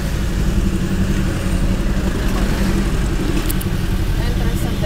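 Steady road traffic near a diversion road entrance, a dense continuous rumble of car and motorcycle engines idling and creeping along, loud and close with no breaks.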